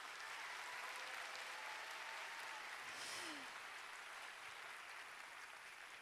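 Applause from the audience at the opening ceremony of an international climate industry expo, following a dance performance by a city dance company; dense, steady clapping from a large crowd that holds for the full stretch and eases slightly toward the end.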